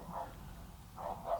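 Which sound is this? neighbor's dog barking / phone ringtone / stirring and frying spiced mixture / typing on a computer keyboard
neighbor's dog barking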